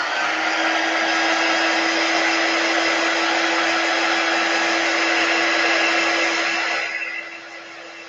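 A hair dryer blows steadily and close over a stencilled watercolor chalk card, a loud even whoosh with a high whine that drops to a lower setting near the end.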